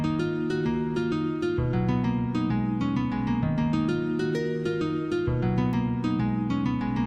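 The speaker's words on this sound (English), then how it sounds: "And now with the halftime, the guitar sounds like this." A slowed guitar melody, played back at a halftime setting of 1.5, rings out as steady, dense plucked notes with sustained low chords underneath, continuous and upfront with no talk.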